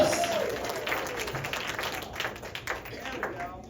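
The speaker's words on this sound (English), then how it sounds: "a big round of applause" Audience clapping at a comedy club magic show, a loud round of applause from the crowd that gradually fades, with a voice speaking over the start.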